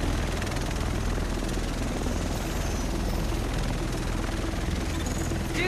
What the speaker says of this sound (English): Here it comes. The rest of us should be in this chopper.